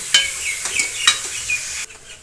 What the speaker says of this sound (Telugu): ఇంకా కొంచెం నెయ్యి వేసుకొని సొరకాయ జీడినది అంతా వేసుకొని మగ్గేంత వరకు పెట్టుకోవాలి.